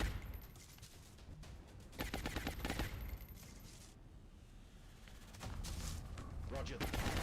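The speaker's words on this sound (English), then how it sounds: "Suppressing fire." A soldier lays down suppressing fire in the video game XCOM Long War, heard as bursts of rapid gunfire in clusters with quieter gaps between volleys.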